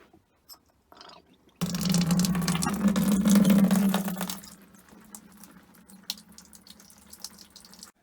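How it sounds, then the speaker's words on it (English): Cooled bitter wort for a pale ale pours into a fermentation bin, a loud rushing gush of liquid for a few seconds that then drops to a softer trickle with occasional drips and clunks. "Now the bitter wort is cooled to less than 30, we can transfer it to the fermentation bin."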